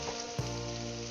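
Sliced onions frying with salt in a pan for Kuttanadan duck curry, a steady close sizzle with a soft clatter of stirring near the middle, no voices.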